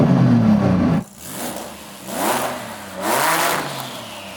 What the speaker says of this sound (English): now Saeed is going to rev up that monster